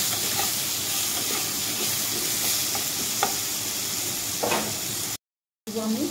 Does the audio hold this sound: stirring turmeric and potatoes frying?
yes